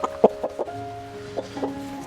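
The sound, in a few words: chicken clucking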